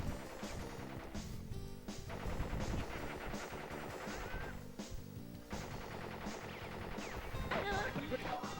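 Boss gunfire in the Crash Bandicoot video game, bursts of shots repeating throughout over a dense game music bed, loud and steady.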